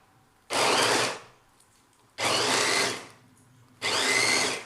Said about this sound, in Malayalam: വെജിറ്റബിൾ നല്ല ഈസി ആയിട്ട് കട്ട് ചെയ്ത് കിട്ടും നമുക്ക്.